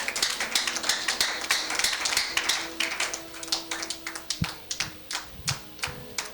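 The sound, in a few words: congregation clapping for the Lord in church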